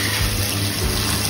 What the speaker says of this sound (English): How good's an outdoor shower?